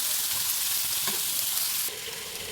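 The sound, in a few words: frying and stirring dal with turmeric in a pan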